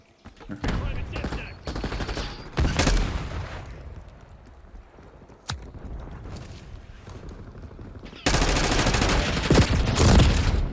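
Gunfire in a Call of Duty Black Ops 6 multiplayer match: repeated bursts of shots and thumps mixed with busy battle noise, a sharp single crack midway, then dense sustained firing toward the end.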